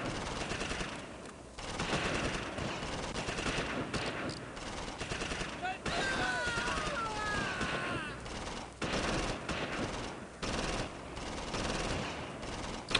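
Dense gunfire and machine-gun bursts from the World War II strategy game Close Combat: Invasion Normandy, Allied airborne against Fallschirmjäger, crackle steadily across the whole stretch with some quieter gaps and a voice talking faintly beneath.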